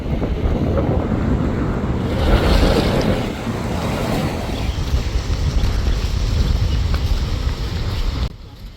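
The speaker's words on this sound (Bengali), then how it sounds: "এটা হচ্ছে সেই দক্ষিণ হাওয়া সি বিচ" Waves surge and break along a sea beach on Monpura island in Bangladesh while strong wind buffets the microphone, a loud roaring wash that swells midway and continues without speech before cutting off abruptly near the end.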